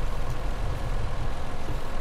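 Tractor engine in the Farming Simulator 17 video game, lifting a large plow on the County Line map, a steady low rumbling drone, close and continuous with no talk.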